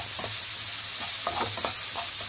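Onions sizzle and fry in a pan for ragi noodles as chopped tomatoes are tipped in and stirred, a steady loud crackle with scraping stir strokes, no talking.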